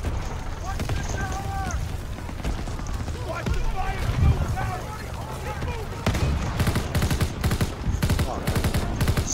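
Gunfire and explosions from the Call of Duty WWII campaign finale at the Rhine: dense, continuous battle noise with sharp shot bursts in the later seconds, with someone talking over it.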